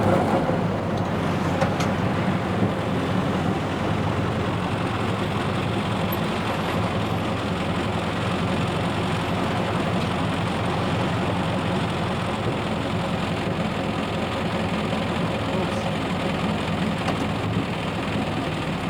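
A 1915 Hispano-Suiza car powered by an 18.5-litre V8 World War I aircraft engine with two spark plugs per cylinder runs at a deep, lumbering idle, a steady low rumble that stays close and constant with no talking.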